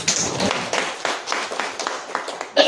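A church congregation breaks into applause during a sermon, a dense patter of many hands clapping close by with uneven surges that swells again at the end.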